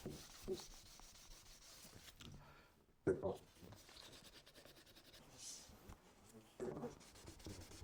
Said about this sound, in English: now I'm going to kind of take out some of these with just some 400 grit sandpaper